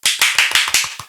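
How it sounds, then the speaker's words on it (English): A quick burst of about six sharp, close hand claps in an even rhythm, tapering off within about a second, with no talking. "Round of applause."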